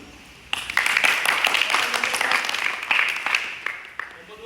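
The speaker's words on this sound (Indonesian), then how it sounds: "Tepuk tangan untuk kelompok 1." A group applauds for a presenting team in a class session, clapping starting abruptly and continuing steadily for several seconds before thinning out, with a few voices mixed in.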